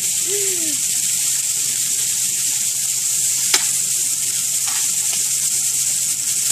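Rib eye steaks grill with a continuous, fairly loud sizzling hiss close by, steady from start to finish, with a single sharp click partway through.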